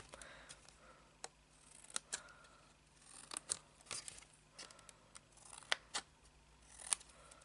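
Scissors snipping folded paper to make an advent calendar, small close clicks and cuts repeating irregularly, quiet, with no talking.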